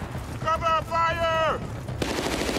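Machine gun fire in the Battlefield: Bad Company video game: a fast, buzzing stream of shots in two bursts, followed by a sharp louder blast over steady battle noise.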